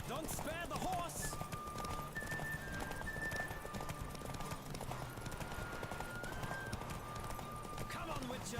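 A horse gallops in The Witcher 3 video game, its clip-clop hoofbeats running steadily under game music and a player talking over it throughout.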